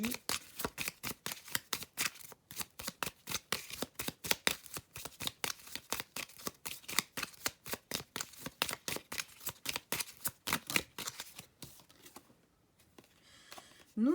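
Tarot cards being shuffled and drawn, a long rapid flutter of card riffles in close succession that is quiet but distinct, fading near the end into near silence before a last soft handling sound.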